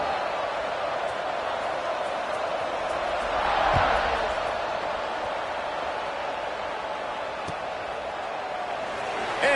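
Football stadium crowd at kickoff, Alabama versus Arizona State, a broad steady roar of distant massed voices that swells briefly midway and then settles into a sustained murmur.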